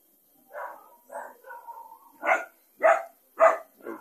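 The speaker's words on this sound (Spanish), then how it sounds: "Ya escucharon la tira, otros perritos salen corriendo." Several dogs outdoors in El Salvador bark in a run of short, sharp yips and barks, about seven in four seconds, fairly close and clear against a quiet background.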